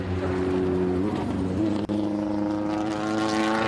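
A classic race car on a hill climb revs hard with a loud, uneven engine note that dips and climbs again as it misses gears, heard close up with muffled voices in the background.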